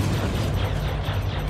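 Spaceship weapons fire and explosions in the Star Citizen space game during an escort of a 600i ship, a dense continuous roar of blasts and rumbling with no clear gaps, loud and close throughout.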